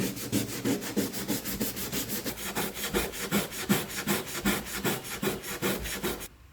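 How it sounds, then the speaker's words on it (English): A 120 grade disc is rubbed by hand over the rusty sill edges of a Seat Ibiza, making a rapid, rhythmic scratchy rasping that stays close and continuous until it stops abruptly at the end. "I'll just feather these edges out by hand with a 120 grade disc"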